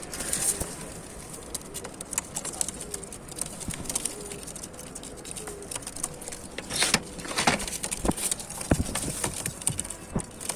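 Racing pigeons kept for sale coo and shuffle in a loft, soft low cooing running under sharp scattered taps and wing flutters, moderately quiet and close.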